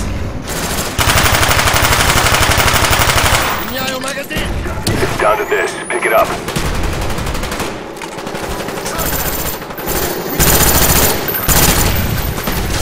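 Rapid automatic gunfire in a Call of Duty Black Ops multiplayer match, loud bursts of rattling shots with explosions and game effects, alternating with brief lulls and overlapped by a player talking.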